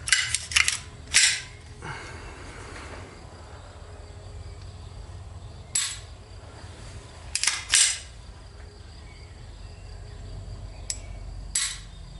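Pistol shots from a SIG P320 X5 Legion at a shooting club ring out as a handful of sharp reports, some close pairs, spaced apart over a quiet range ambience.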